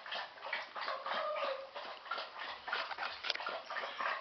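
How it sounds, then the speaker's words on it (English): Airedale puppies being weaned whimper and yip continuously in thin, high-pitched, overlapping cries, close and fairly quiet, with no talk over them. "Say hi, puppies."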